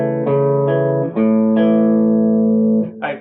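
Guitar playing measure four of a riff, clean picked notes left to ring into each other, a short arpeggiated phrase played alone up close.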